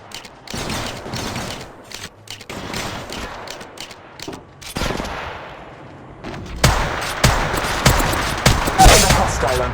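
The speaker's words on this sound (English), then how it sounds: "Shots fired at me." Bursts of rapid gunfire in the mobile game Apex Legends Mobile come in uneven volleys with mechanical clicks between, growing denser and louder toward the end, under in-game voice callouts.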